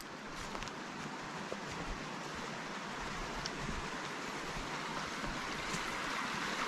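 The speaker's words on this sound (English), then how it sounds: "Right next to the creek, and this flows year round." A year-round creek flowing past a forest campsite, a steady, broadband wash of running water that holds even and continuous throughout, with no voices.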